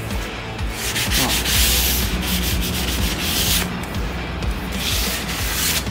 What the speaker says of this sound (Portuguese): Vai pegar a lixa, passa só na quininha, sempre passando a mão.